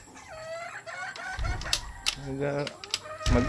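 A sweater gamefowl rooster crows several times in short bursts with clucking between them, close and fairly quiet, while a person talks briefly in the background.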